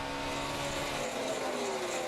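NASCAR Sprint Cup stock cars racing at Charlotte during the 2008 Bank of America 500: a continuous, loud engine roar with shifting whining pitch as the cars pass at speed.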